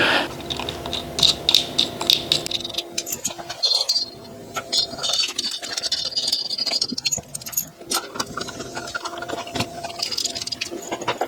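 Ratchet clicking in rapid bursts while tightening bolts on a Predator blower adapter, fitted to the Coyote engine of a 1969 Ford F100; close and fairly loud, with irregular pauses and some metallic handling clatter.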